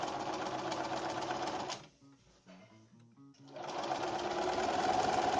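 A sewing machine stitches darts in a 1950s beach coat lining with a loud, close, rapid whirring run that pauses for about two seconds of quieter handling and then starts again.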